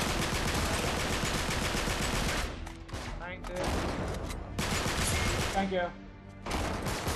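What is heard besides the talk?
gunfire in Uncharted 3 video game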